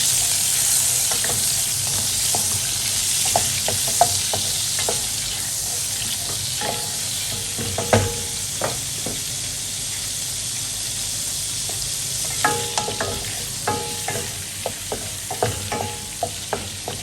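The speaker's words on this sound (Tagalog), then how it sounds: "Yan, imelt lang natin mabuti yung butter." Butter melting in a frying pan makes a steady, close hiss and sizzle throughout, with scattered light clicks and taps of a utensil against the pan that cluster toward the end, and no talking.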